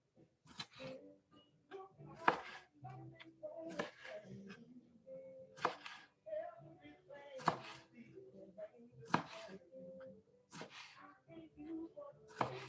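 A knife chops vegetables for a meal-prep salad on a board, sharp irregular knocks in quick bursts, close but fairly quiet, mixed with soft handling noises and light talking.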